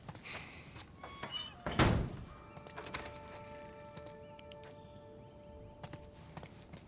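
A door shut in The Last of Us Part 1 on PC, heard as a single heavy thunk near the start, followed by quiet game ambience with faint steady tones.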